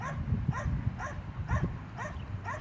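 Australian heeler dogs bark and yip repeatedly in a quick, rhythmic series, fairly close and moderately loud, with the yelps spaced about half a second apart by an ocean-view home in Hawaii.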